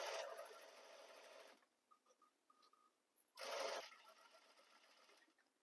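A sewing machine stitches a seam on a chemise dress, two close whirring runs of stitching separated by a short pause with light handling clicks.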